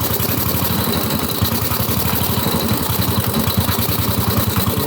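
A 115-year-old motorcycle engine fitted with a muffler idles steadily, a quiet, even low chugging with a regular rapid rhythm, close and without talk.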